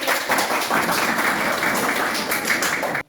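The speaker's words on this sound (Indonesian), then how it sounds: "kita berikan aplaus dulu kepada kelompok 1 untuk mempresentasikan hasil diskusi mereka" Classroom applause for a student group presentation: a steady, dense wash of many hands clapping together for about three seconds, then cutting off abruptly.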